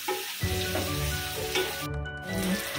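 Onions fry in a pan for chole gravy, giving a close, steady sizzle and crackle throughout a few seconds, with no talking.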